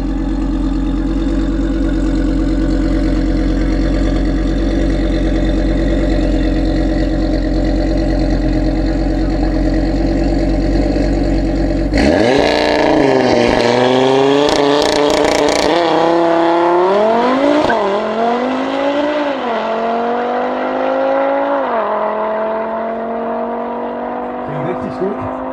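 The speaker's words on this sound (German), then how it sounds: "weiter geht's mit dem Audi TTRS" An 850 hp tuned Audi TT RS at a drag racing event idles loud and steady, then revs and launches hard at about 12 seconds, its engine note climbing through gear changes as it pulls away, with crowd noise and talk underneath.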